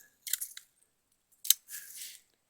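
Scissors snip off a few weeds sticking up in front of a trail camera outdoors, giving two quick, close cutting bursts with a short rustle between them and no talking.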